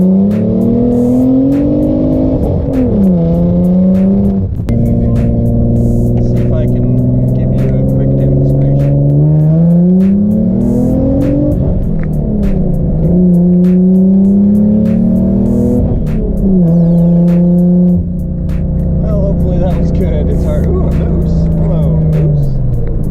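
A car with a newly installed boost gauge on a test drive, loud engine revving and rising through the gears in repeated climbing sweeps with shift drops, close inside the cabin, with voices talking over it.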